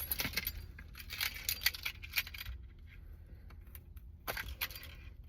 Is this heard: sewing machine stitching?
no